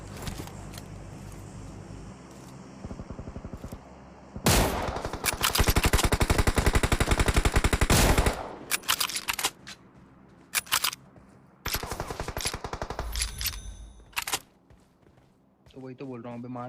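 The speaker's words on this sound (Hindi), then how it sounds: "अब ये लोग यार मेरे बिल्कुल बगल में गोली चला तो रहे थे" Gunfire close by in the battle-royale video game PUBG Mobile, bursts of rapid automatic shots and single cracks, loud and near, separated by quieter gaps while players talk over it.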